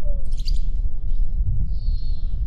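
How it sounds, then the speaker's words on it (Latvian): Birds on the Baltic Sea coast give a few short chirps and whistled notes over a constant low rumble of wind and surf. "Apkārt putni"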